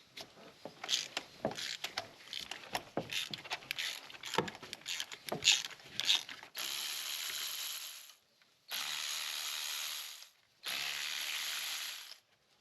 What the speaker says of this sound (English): Use a standard 5/8 spark plug socket and a long extension. Crack these loose.